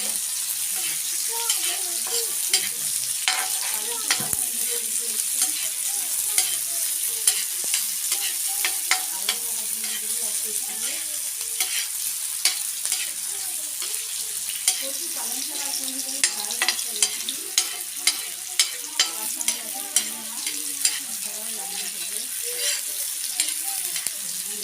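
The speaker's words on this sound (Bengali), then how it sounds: "পেঁয়াজগুলো খুব ভালো করে ভাজা ভাজা করে নেব।" Chopped onions fry and get stirred in hot oil left from frying kuche eel fish, a steady close sizzle with scattered scraping and clinking of the spoon throughout, no talking.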